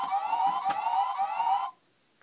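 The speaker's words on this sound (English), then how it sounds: "So it makes that siren noise when it opens up" An electronic toy siren from a Gokai Machine Pat Striker toy wails with a bright, wavering tone, close and fairly loud, then stops suddenly.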